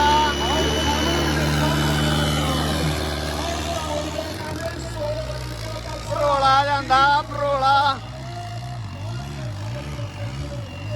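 A tractor engine hauling a trolley at a village pulling contest drones loudly and revs up and down, with shouting voices and crowd noise over it.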